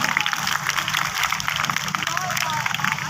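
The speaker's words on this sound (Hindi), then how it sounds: "जोरदार तालियां।" Applause at a naat recitation contest held at a women's university, a dense patter of clapping from the audience mixed with voices.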